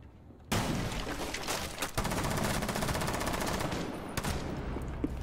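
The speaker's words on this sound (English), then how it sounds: "Can you shotgun the window for me?" Gunfire in Rainbow Six Siege, a shotgun blasting out a window: a sudden loud onset followed by a dense, sustained barrage of shots and debris over several seconds, with sharper cracks standing out partway through.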